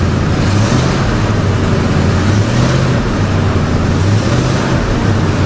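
A car engine with a suspected transmission problem is given gas and revs steadily, a continuous low rumble that rises and falls slightly for several seconds with no talking.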